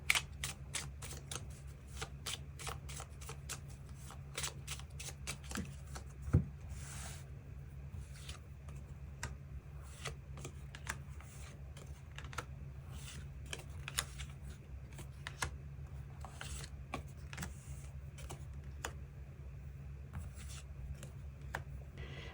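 Tarot cards are shuffled and drawn, producing a long run of quick, light riffling flicks and soft card snaps. The flicks come in irregular bursts, close and fairly faint, over a low steady room hum.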